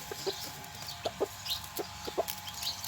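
Chickens cluck in short, scattered bursts close by, with soft rural background hiss and no talking.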